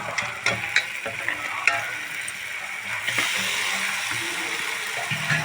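Mutton frying in a wok with a cooked-down spice paste, a close, steady sizzle broken by clinks and scrapes of a spoon stirring the meat, with no talk.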